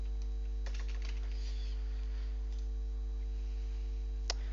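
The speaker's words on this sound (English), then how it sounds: "But if we're typing this dot mob ID, it will take this mob ID instead." Java code is typed on a computer keyboard in scattered light key clicks, faint under a steady low electrical hum, with no one speaking.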